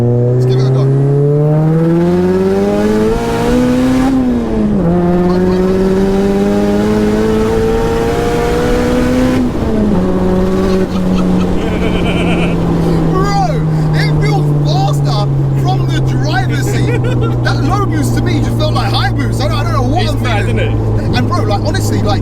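A dry-sumped 600bhp Mazda MX-5 on low boost accelerates hard in second gear, its engine note climbing loudly through the revs with roaring, rasping intake and exhaust, close up inside the car, with voices talking over it.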